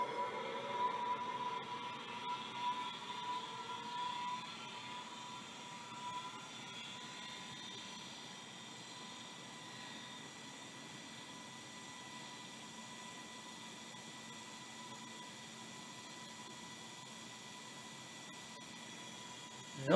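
A Micropolis 1325D hard drive spinning: a faint steady whine and hum holding at constant pitch, a bit louder for the first few seconds then settling, with no talking.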